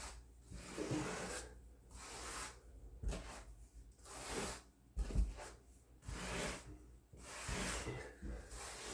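A sponge rubs grout across a bathroom floor during tile work in steady, repeated close-up strokes, with a rhythmic scrubbing rasp and brief pauses between passes.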